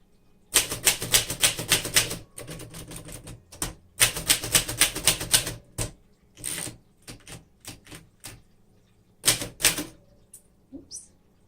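Typing on a 1938 Remington Model 5 manual typewriter: close, brisk bursts of crisp key strikes with short pauses between runs, a few isolated clacks and a small bell-like ding near the end.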